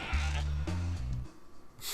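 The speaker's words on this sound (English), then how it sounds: "they're gonna feed him the goat. They're gonna sacrifice the goat." A goat bleating in the PS1 video game Spyro 2: Ripto's Rage, two drawn-out wavering bleats in quick succession, loud and close, fading into quieter game ambience.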